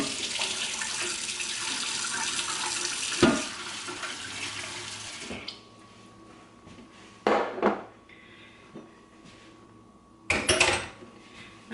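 Tap water runs in a kitchen sink as potatoes are rinsed, a loud steady splash that stops, then returns in short gushing bursts with a few clunks in between.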